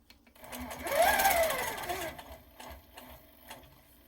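A sewing machine does ruler-guided quilting in short, fairly quiet bursts of stitching, swelling and fading within a few seconds, with faint pauses between runs.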